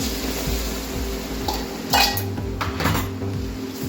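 A utensil scrapes and clinks steadily against a pan as a mixture for adadiya, a Gujarati sweet, is stirred after milk is added, with a faint sizzle underneath and no talking.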